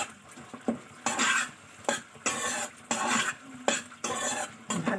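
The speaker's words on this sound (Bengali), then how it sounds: "আর ভালো করে নাড়াচাড়া করব।" A spoon stirs soybean curry with capsicum in a pan, producing rhythmic scraping strokes, about one per second, over a soft background sizzle, close and fairly loud.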